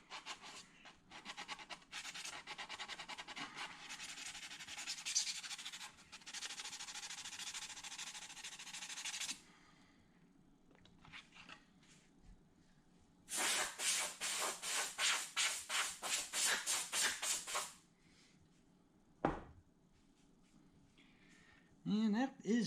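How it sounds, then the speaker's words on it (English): Sandpaper rubs and scuffs off a surface before priming, in long bursts of loud rhythmic rasping strokes separated by pauses, close by. "basically sand off a little."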